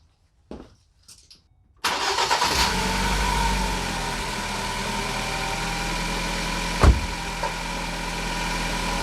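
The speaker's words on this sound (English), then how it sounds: "Will the car start with the new battery in it?" A car engine cranking and firing up on a new battery after a couple of short, faint clicks and stutters, then settling into a steady, loud idle with a brief revving blip partway through.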